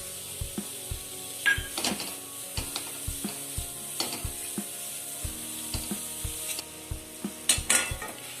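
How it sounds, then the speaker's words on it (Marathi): Khoa roasting in a hot kadhai, stirred with a spatula in a steady rhythm of scraping strokes about every half second, close and moderately loud over a faint sizzle. "आपण खवा गरम करून घेऊया।"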